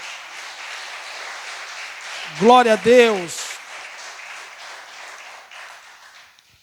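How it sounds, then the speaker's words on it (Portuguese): Congregation applause fills a church service, a steady broadband clapping that runs through the whole stretch while a voice briefly exclaims over it in the middle. "Então você pode dar uma linda salva de palmas."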